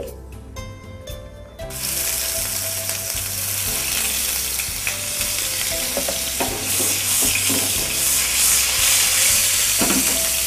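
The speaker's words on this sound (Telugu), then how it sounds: "ఆనియన్స్ ని లైట్ బ్రౌన్ అయ్యేంత వరకు ఫ్రై చేయాలి" Onions fry in a pan with a steady, loud sizzle, broken by scraping and stirring clatter; a quieter stretch of tapping comes first, with no talking.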